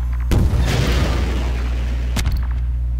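Rocket explosions in Half-Life 2, two heavy booms with a rumbling tail over a loud, dense background.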